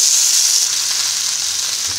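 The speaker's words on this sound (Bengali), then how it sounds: "গ্যাসের ফ্লেমটা একদম কমিয়ে দেবো মশলাটা ভালো করে ভাজা হওয়ার জন্য" Ground paste of cumin, coriander, ginger and green chilli fries in a pan over a low gas flame for a vegetarian soybean, potato and pointed gourd curry, giving a close, steady, continuous sizzle with no talking.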